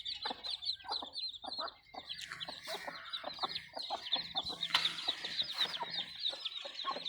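Aseel hens clucking in a farmyard, a steady run of close, overlapping clucks and calls with chicks peeping amid the flock, continuing throughout.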